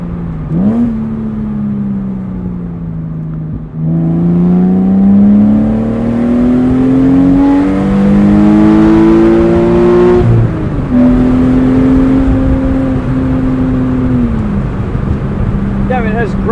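A Porsche Boxster engine pulls hard through the gears, its note climbing steadily in several rising sweeps with brief dips at the shifts, loud and close from inside the car.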